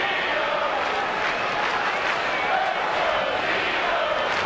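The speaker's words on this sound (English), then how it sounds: "I got the Let's Go Zito chant." Baseball crowd at a San Francisco ballpark applauding and chanting for pitcher Zito, a dense, steady roar of many voices and hands with no clear gaps, loud and continuous throughout.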